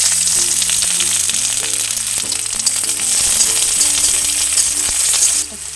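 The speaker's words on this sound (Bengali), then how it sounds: "আমার যে পেঁয়াজটা কোচানো আছে সেটা দিয়ে দিলাম" Chopped onion sizzles in hot oil in a wok, a loud continuous hiss and crackle that holds steady throughout, with faint tonal background music underneath and a small drop right at the end.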